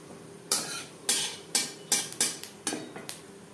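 A spoon scrapes and clinks against a pan in a quick irregular series of knocks over a soft sizzle as whole cumin seeds fry in refined oil for a vegetarian papaya curry.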